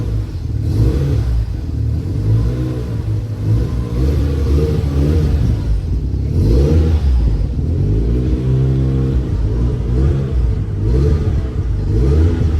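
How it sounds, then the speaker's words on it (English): A car engine, recently brought back to running order, revs repeatedly in a driveway, producing loud, close rising and falling vroom bursts over a rumbling idle. "Get in and rev it up a little bit."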